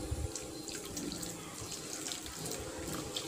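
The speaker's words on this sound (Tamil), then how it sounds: "இனி நம்ம வந்து பாலை ஆட் பண்ணலாம்." Milk pours into a cooking pan in a steady, close liquid stream that runs unbroken for a few seconds, with no voices.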